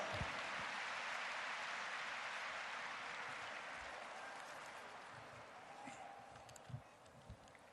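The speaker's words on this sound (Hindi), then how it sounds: "तालियों द्वारा अभिनंदन" A large audience at a Maharishi Dayanand Saraswati anniversary celebration applauds to welcome the Gujarat governor, a broad wash of clapping that gradually fades, with a few scattered louder claps near the end.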